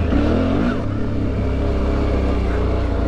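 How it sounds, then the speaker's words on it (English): Adventure motorcycle on a dirt OHV trail with its rear tire, a Shinko, spinning: a loud, steady engine roar with revving pitch changes, close up and continuous throughout. "There goes that tire spinning."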